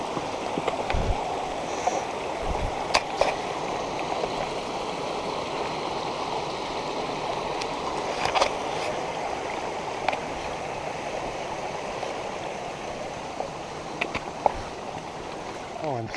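A steady rushing stream and waterfall in Shenandoah National Park in early fall, continuous broadband water noise at moderate distance, with occasional faint knocks and brief sounds breaking through.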